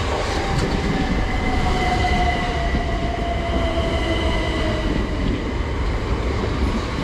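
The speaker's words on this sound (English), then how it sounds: "here is the 16 and 23 Southeastern service to London Charing Cross" A Southeastern class 375 electric train bound for London Charing Cross pulls into an East Sussex station platform with a loud, sustained rumble and wheel noise, steady and close for the whole stretch.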